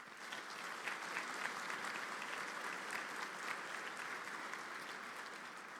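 A commencement crowd applauds the Christian Brothers with steady, sustained clapping from many hands, even and dense throughout, heard somewhat distant with no speech over it.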